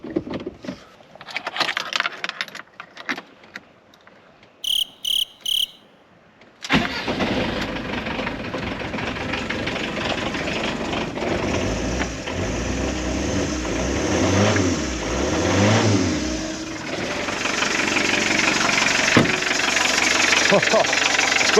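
A car engine is started after a belt tension adjustment to cure a squealing drive belt. Short clicks and beeps come first, then the engine cranks and catches into a steady, loud idle with some revving and no squeal.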